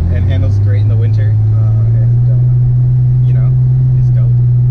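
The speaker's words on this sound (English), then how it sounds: "This thing sounds good. Sounds good. A little bit of a drone with that exhaust." Steady low exhaust drone from a 2010 Ford Taurus SHO V6 while driving, a loud constant hum rising slightly in pitch as people talk inside the cabin.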